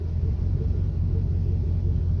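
A car engine idles with the key in the ignition, a steady low rumble holding even and continuous throughout, close and fairly loud with no talk over it.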